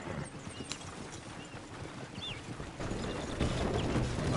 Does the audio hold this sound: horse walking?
yes